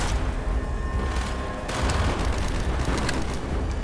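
Sustained gunfire in the Black Ops video game, with dense, loud overlapping shots and booming blasts. The firing runs continuously throughout and grows heavier partway through.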